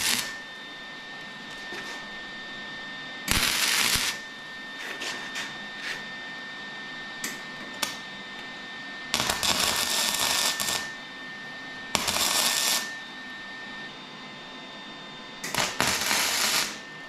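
A MIG welder tack welding steel using Vevor welding wire, several short bursts of loud buzzing crackle, the longer tacks lasting about a second each, separated by quieter pauses with faint clicks and handling sounds.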